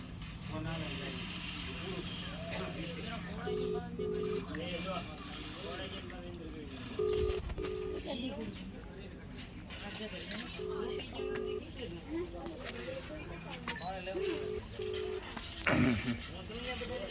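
A mobile phone call rings out, its ringback tone coming in paired beeps that repeat about four times at a steady interval, with faint traffic and voices in the background.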